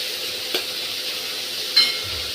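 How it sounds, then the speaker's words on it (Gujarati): Tomatoes and cabbage are stirred into masala oats in a pan, a soft, steady sizzle with two brief scraping stirs, close and quiet, with no voices. "ટમેટાં, કોબીજ એડ કરી દઈશું. એ બધાને સારી રીતે હલાવી લઈશું."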